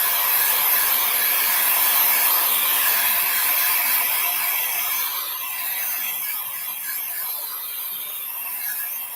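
A hair dryer blows steadily and loudly for the whole stretch, drying an art project at a workshop table, with a broad airy roar that eases slightly in level partway through and no talking over it.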